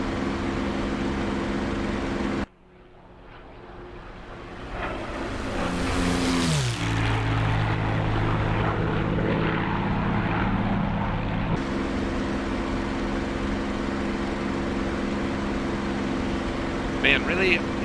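A P-51 Mustang's propeller engine in the War Thunder flight game drones loudly and steadily throughout, its pitch stepping down partway through and holding lower, with a brief cutout near the start.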